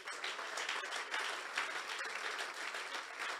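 A church congregation claps together in a continuous, fairly dense burst of applause, heard at a distance and quite faint.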